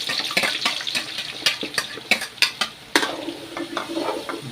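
Garlic sizzles in hot oil in a pan while a utensil stirs it with repeated scraping strokes, close and steady, for a Filipino sweet and spicy shrimp paste dish; no one talks.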